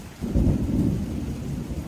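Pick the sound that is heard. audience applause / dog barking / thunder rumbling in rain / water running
thunder rumbling in rain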